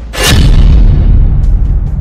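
Powerful battlefield explosions blowing up tanks, a heavy boom bursting out near the start and rolling into a dense, loud low rumble that fills the rest of the moment.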